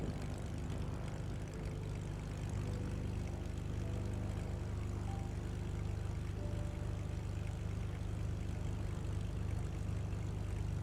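Lancair propeller aircraft in a flight simulator game, non-turbo version, engine droning continuously at a steady idle with a low, even hum, faint and uninterrupted.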